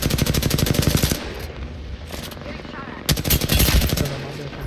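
Rapid automatic gunfire in a video game, loud and close: a long rattling burst, a brief lull with scattered shots, then another sustained volley, with a voice murmuring faintly underneath.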